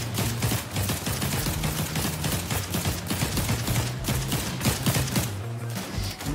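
Rapid gunfire in the Fortnite video game, a dense continuous stream of sharp shots with rhythmic thumps, steady and moderately loud throughout.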